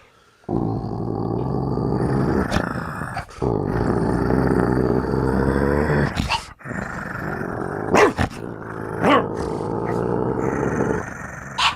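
A voice imitates a dog growling: long, rough, rumbling growls broken by brief gaps and sharp barking yelps, close and loud, with no other talk.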